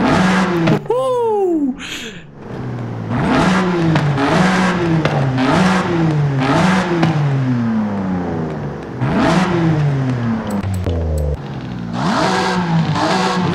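A car engine revs hard in Forza Horizon 5 with a middle-exit exhaust, a loud close run of rising and falling pulls in quick succession, with one brief dip early on.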